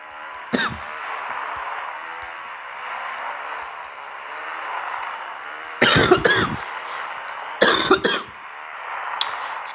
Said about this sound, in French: si je tousse